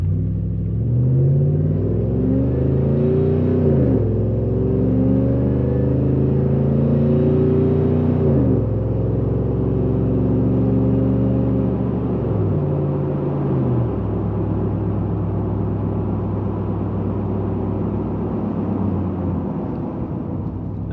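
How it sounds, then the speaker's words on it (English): A supercharged Roush F-150 pickup accelerates with its Valvetronic Designs muffler valves open, a loud, steady deep exhaust roar rising in pitch through each gear, with two clear shift dips before settling into a sustained drone. "we'll do a normal acceleration with the valves open"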